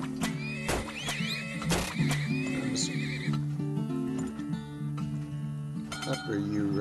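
Horses neigh repeatedly in the video game Turmoil, shrill whinnies layered with clip-clopping hooves and light clinks over a looping tonal game music bed.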